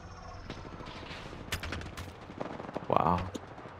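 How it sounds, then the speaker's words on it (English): Gunfire in Apex Legends, scattered distant shots and short bursts popping through a noisy game mix, with a louder whooshing burst near the end. "They're shooting in this direction."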